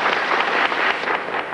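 An audience claps for a young girl singer on a stage show, a dense and fairly loud burst of steady applause that fills the short moment without any voices.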